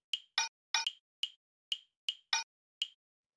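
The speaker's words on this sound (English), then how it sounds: "the last layer of drums that we have here are these two little percussion sounds" Two small percussion samples in a house beat, a clave and a little metal percussion hit, alternating in crisp, dry clicks, eight short hits in a syncopated pattern, clean and isolated.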